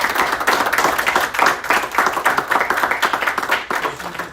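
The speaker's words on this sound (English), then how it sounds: "So if we could just give them a little round of applause." Audience applause at a school board of education monthly meeting, a steady close wash of many hands clapping that holds for the whole span without a break.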